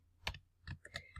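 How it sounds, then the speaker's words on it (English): Computer keyboard keys are tapped in a short burst of four or five crisp clicks, close and quiet, with no voice. "type it in"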